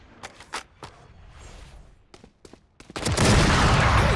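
Gunfire in a shooter video game: several sharp, separated shots that give way to a loud, sustained burst of rapid firing, with no talk over it.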